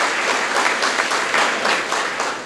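An audience at a Gujarati community gathering applauds two donors with steady, dense clapping that fills the room at an even loudness throughout.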